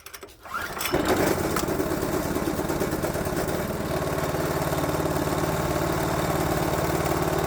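A Predator 420 gasoline engine converted back to a carburetor cranks briefly, catches within a second and settles into a loud, steady running drone, heard close up.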